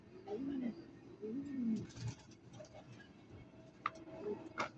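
Soft, low cooing of two racing pigeons repeats a few times close by, mixed with light ticking and small clicks in a quiet room.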